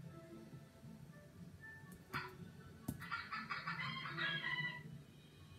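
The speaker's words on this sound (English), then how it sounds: "I'll give you this hen." A hen gives a few short clucks and calls from close by, including a louder burst of fowl noise midway, against a quiet indoor background with no talking.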